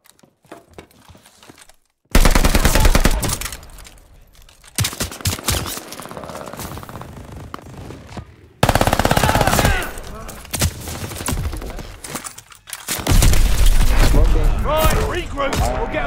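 Rapid automatic gunfire in Call of Duty Vanguard Search and Destroy, loud bursts of an 18-round magazine in several long strings with short gaps, with a player talking over it.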